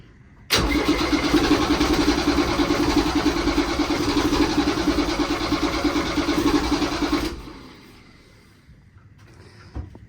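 A boat's diesel engine, just bled at the fuel injectors, catches and runs loud and steady for about seven seconds before cutting off and winding down to quiet.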